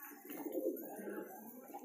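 Pigeons sunning themselves in a corner give a soft, low cooing that murmurs on continuously, faint and fairly close, with no voices over it.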